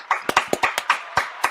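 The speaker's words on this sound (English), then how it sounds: "let's give a big hand to CJ Fool" Applause on a live stream for a toy giveaway winner, a run of sharp, uneven claps and taps with brief gaps, fairly close and alone without talk.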